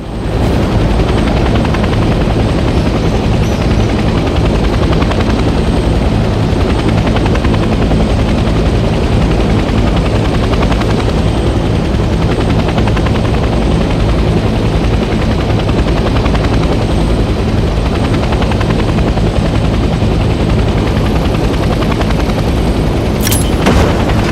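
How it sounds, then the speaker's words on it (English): Steady, loud helicopter engine and rotor drone from the game Hell Let Loose: Vietnam, running continuously throughout without a break, close up, with a brief sharp burst near the end. "Let's land the helicopter on a helipad and turn the engine off."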